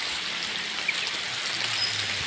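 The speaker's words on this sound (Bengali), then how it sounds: "বৃষ্টি হচ্ছে, আজকে কাজ নাও হতে পারে কোনো" Heavy monsoon rain pours down on a building construction site with a two-storey roof under way, a steady, even hiss of falling water with a faint low rumble beneath and no voices.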